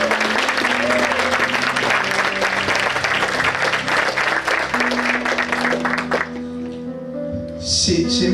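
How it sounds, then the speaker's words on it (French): Church congregation applauding and cheering to acclaim Jesus at a Christian seminar session, dense sustained clapping and crowd voices filling most of the clip, then thinning near the end under lingering sound. "Alors qu'on acclame Jésus."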